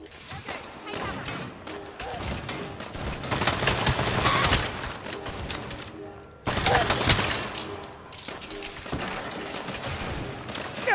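Sniper and other gunfire in a Saints Row video game firefight: loud, cracking shots and sustained volleys come thick and fast, with a short lull partway before the shooting resumes just as heavily.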